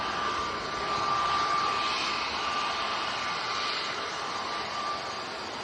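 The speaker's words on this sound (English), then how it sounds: "This is EasyJet to Hurghada." An EasyJet airliner bound for Hurghada roars steadily past at Manchester Airport on a windy day, a broad, continuous jet-engine rush with a faint high whine, no voices.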